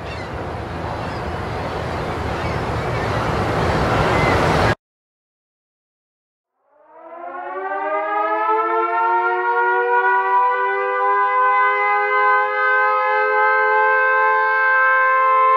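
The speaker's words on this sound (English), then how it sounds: "And a ferry building siren" The Ferry Building siren in San Francisco rises from silence into a long, loud, steady wail with harmonic tones, heard alone after a short burst of other noise that cuts off abruptly.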